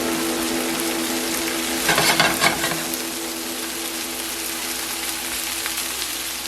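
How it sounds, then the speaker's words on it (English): Shrimp and sautéed vegetables fry in a pan for a jerk shrimp and grits dish, giving a steady close sizzle with a brief louder burst of stirring and spattering midway, no talking. "I'm adding my shrimp back to the pan"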